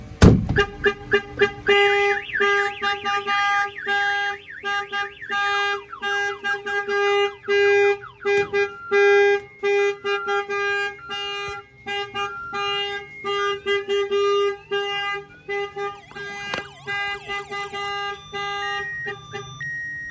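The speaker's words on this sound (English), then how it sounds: "that the alarm is going off." A 2020 Peterbilt truck alarm sounding nearby, cycling through rapid repeating electronic tones and warbling siren patterns that change every few seconds.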